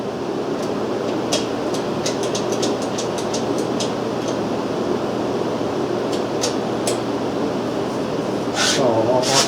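A metal shaper machine runs with a steady, loud mechanical drone and a dense rumble, with scattered sharp ticks and clicks throughout.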